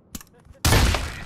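Loud burst of gunfire in the VR shooter game Pavlov, a sudden dense volley erupting after a quiet moment with brief faint sounds before it, sustained and close.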